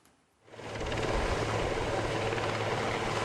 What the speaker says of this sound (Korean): 대통령 전용 헬기 마린1을 보내줬어요